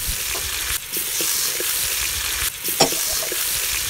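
Chicken fries in a pan with mint leaves while being stirred, a loud, close, steady sizzle broken by a few scraping stirs.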